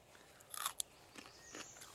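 A raw wild leek bulb, wiped clean and snapped off, is bitten and chewed outdoors in the woods, giving a few quiet close crunches and a sharp bite followed by softer chewing, with no talking.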